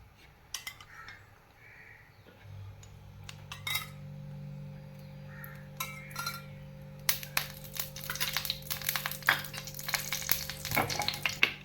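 Oil crackles and sizzles on a hot tava for egg adai, quiet at first with a few clinks and utensil taps, then a louder, dense spitting sizzle in the second half.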